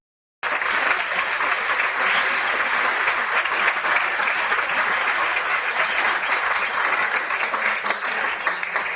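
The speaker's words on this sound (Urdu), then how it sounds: "پورا مجمع تالیوں سے گونج اٹھا۔" Large crowd applause starts abruptly after a brief silence and holds steady as dense, continuous clapping from many hands, filling the whole stretch at an even level.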